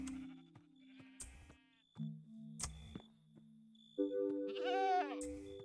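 Several goats in the Sunlit Valley farming game bleat one after another, short nasal wavering calls spaced apart, the last one longer and rising, heard alone and close.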